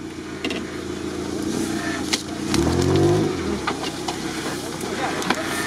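An off-road Suzuki Samurai or Niva at a rally event churns and revs nearby, with a rumbling engine that swells into a louder strained rev midway, scattered knocks and clatter over the top, and voices around it.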